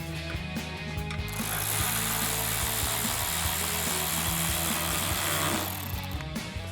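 A ratchet with an 8mm socket on an extension tightens a hose clamp nut on a Ram 1500 cold air intake, giving rapid repeated clicking with mechanical whirring, close up.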